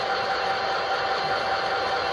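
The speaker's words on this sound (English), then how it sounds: "Authentic EMD 645 engine sound there." A model train's EMD 645 diesel engine sound chugs at a steady, moderate level with an even mechanical hum throughout, heard alone without talk.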